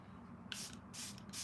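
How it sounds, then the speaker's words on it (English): Makeup setting spray is applied in a glam makeup session, several short, close hissing bursts of mist from a pump bottle, quick and separate, over faint room hum. "Putting more spray because I want this to be locked in place."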